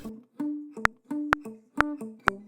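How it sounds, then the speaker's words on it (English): Acoustic guitar texture from a remix session, with short plucked tonal phrases and sharp percussive clicks in a regular repeating pattern, four cycles in a few seconds, clear and alone. "I think there's also like a guitar thing"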